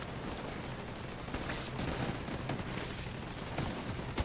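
Gunfire in The Division 2, with a steady dense crackle of shots and bursts running throughout, a couple of sharper louder reports standing out near the end, and no voices over it.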